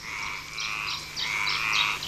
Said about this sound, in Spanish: solo pequeños animales, como esta rana de San Antón, viven en la lujuriosa selva prehistórica de Garajonay